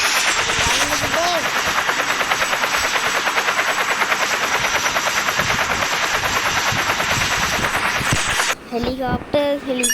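Helicopter rotor and rapid gunfire in a video game police chase: a loud, continuous, dense rattle of bursts for about eight seconds that cuts off near the end, where a voice briefly speaks.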